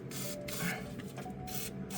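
Short hissing bursts of WD-40 lubricant sprayed while working under a Ford Mustang SN95 during a rear differential and control arm install, a few quiet spurts with brief gaps between them.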